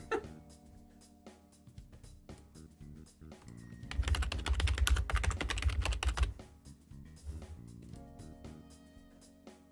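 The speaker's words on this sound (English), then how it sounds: "That typing noise is satisfying." A loud computer keyboard clacks in rapid, irregular bursts of typing, growing busier and heavier in the middle before settling back to scattered keystrokes, with faint background music.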